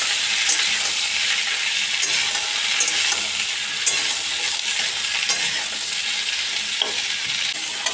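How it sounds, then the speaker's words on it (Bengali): Potato and ridge gourd stir-fried in a pan hiss with a loud, steady sizzle broken by repeated scraping stirs of a spatula, close up and without speech. "এটাকে ভালো করে আলুর সাথে নেড়ে ছেড়ে ভাজা ভাজা করে নিতে হবে।"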